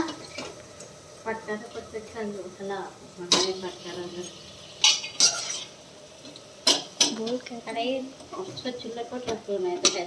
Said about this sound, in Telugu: మిక్సింగ్ చేసుకోవాలి